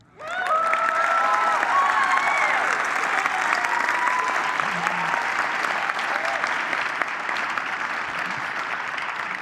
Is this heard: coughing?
no